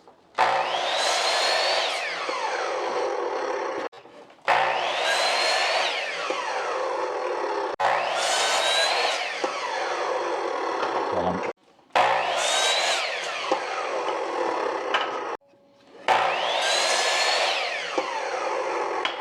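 A power tool cuts 2x2 lumber in five long bursts, each a loud whining saw tone that rises and falls through the cut, separated by brief pauses of near silence.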